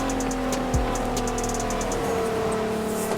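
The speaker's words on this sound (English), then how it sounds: "Could you hear that filter noise as well? It's got a nice filter noise as well." Engine and intake of an MK4 Golf R32 in Forza Horizon 4, a steady mid-level drone with a whooshing filter hiss and faint ticking on top, heard close and continuous.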